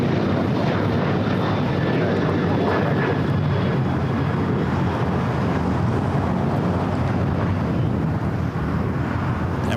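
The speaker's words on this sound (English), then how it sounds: "The flight taking off is heading to Vegas" A United Airlines airliner takes off at LAX, its jet engines a loud, sustained roar with some wind buffeting, unbroken for the full length and free of talk.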